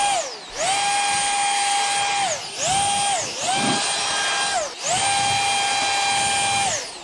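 A Ryobi power blower runs close by outdoors in freezing weather, its high whining motor holding steady, then dipping and spinning back up in several short bursts, with no talking.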